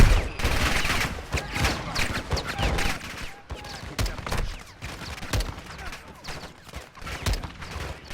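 Rapid gunfire bursts and single shots rattle loudly in a Call of Duty Modern Warfare 2 campaign mission, nearly continuous for several seconds with dense impacts, while a player speaks briefly over the action.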